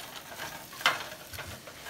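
Bok choy sautéing in a pan over fairly high heat, a low steady sizzle with one sharp stir or scrape partway through and a few fainter movements after, close and with no talk.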